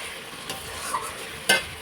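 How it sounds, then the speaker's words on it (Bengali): A spice paste fries in oil in a pan with a soft, steady sizzle, while a spoon stirs through it and gives a couple of brief scrapes and one sharper clink near the end; close, no voices. "দেখো মশলাটাও কষাচ্ছি"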